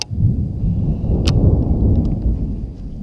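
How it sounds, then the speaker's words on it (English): Thunder from an approaching storm rumbling low and heavy for several seconds, a close continuous roll with a faint crackle near the start. "Another storm rolling in."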